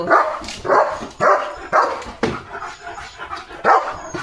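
A German Shepherd barks loudly and close by at a passing bullock cart, about seven sharp barks in an uneven rhythm with short gaps, some soft panting in between.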